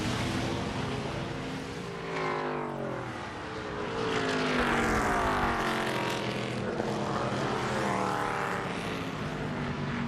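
ARCA stock cars race at Lime Rock Park with engines whining and sweeping in pitch as several cars pass in succession, a continuous layered roar rising and falling at moderate distance.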